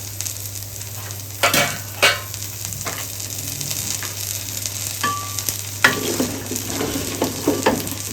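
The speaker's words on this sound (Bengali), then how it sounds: "একটু নেড়ে চেড়ে কষিয়ে নি এটা কষানো হোক আস্তে আস্তে" Dried shark curry being stir-fried slowly in a pot, with a constant low sizzle, a steady hum and scattered scraping knocks of the spoon as it is turned, close by.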